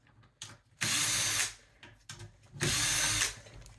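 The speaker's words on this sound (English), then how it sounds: "Back these screws out." Power drill backing out the screws of a door knob on a replacement door: two close, loud whirring bursts of about a second each, separated by a short pause with faint handling clicks.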